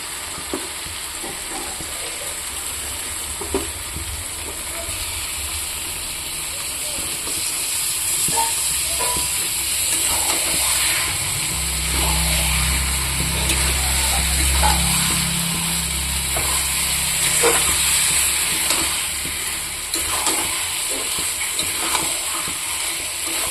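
Chicken pieces for a chicken curry fry in a covered pan, giving a steady, loud sizzle and hiss throughout. A deeper rumble of bubbling steam swells midway, and no one speaks.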